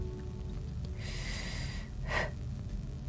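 A voice imitates light, soft breathing of the kind counted as snoring in women: two gentle breathy exhalations, the second slightly louder, heard close up without words.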